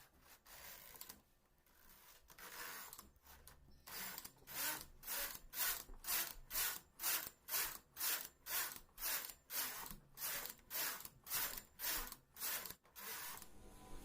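A simple knitting machine knits rows of wool, its carriage sliding back and forth in a steady run of about fifteen evenly spaced rasping passes, close and alone after a few quieter strokes at the start.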